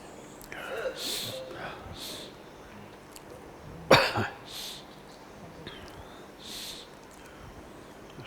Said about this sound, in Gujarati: કેમ ઉધરસ આવી?